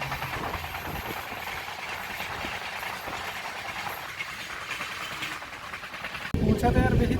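The Padatik Express runs at night near Siliguri, its carriage giving off a continuous rolling rumble heard from onboard, with a louder, rougher burst near the end and voices faintly present.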